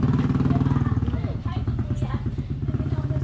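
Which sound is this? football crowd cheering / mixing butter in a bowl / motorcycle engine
motorcycle engine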